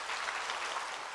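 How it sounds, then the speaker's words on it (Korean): A church congregation at a Wednesday worship service gives loud applause to welcome a pastor, a dense, even wash of many hands clapping that fills the whole moment without a break. "나오실 때 우리 큰 박수로 한번 격려하실까요?"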